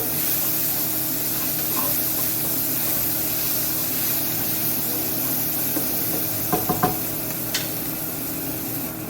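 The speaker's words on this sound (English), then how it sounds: "Add a little more olive oil. We don't want to burn those. Because we want to saute them nicely." Vegetarian, gluten-free meatballs sautéing in olive oil in a pan, a loud, continuous sizzling hiss close by with a few faint scraping knocks near the end and no talking.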